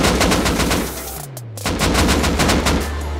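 Rapid bursts of automatic gunfire from the survival video game Rust crack loudly and close in quick rhythmic volleys, with a brief lull in the middle before the shooting resumes. No one speaks.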